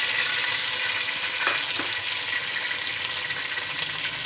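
Chopped tomatoes and green chillies sizzle steadily in hot oil in a pan, a close, even hiss that carries on alone without talk.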